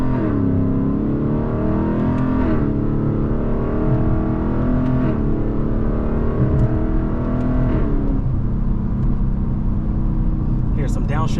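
A Lexus LC 500 engine runs loud and close through slow gear shifts, its note rising and dropping back at each change in a steady, continuous drone.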